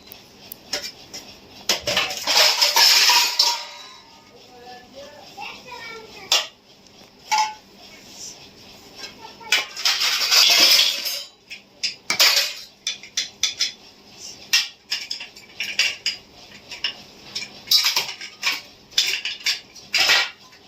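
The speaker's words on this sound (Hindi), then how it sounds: "ये हमारी मम्मी बर्तन धो रही हैं" Dishes are washed by hand, with cutlery and metal pots clattering, clinking and scraping in irregular bursts, loud and close, with some quieter gaps of running-water hiss between clusters.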